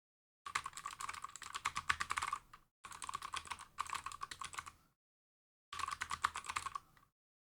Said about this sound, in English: The key clacks are really loud, actually.